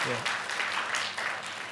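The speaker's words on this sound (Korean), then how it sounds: "우리 큰 박수로 환영합니다" A church congregation at Sunday worship claps to welcome a visiting pastor, steady close applause that follows a brief bit of voice at the start.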